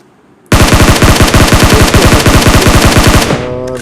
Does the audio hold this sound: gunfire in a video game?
yes